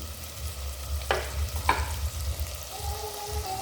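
Chopped tomatoes sizzle in a pan while cooking for a chicken biryani, a steady low frying hiss with a couple of sharp stirring scrapes, heard alone and fairly quiet.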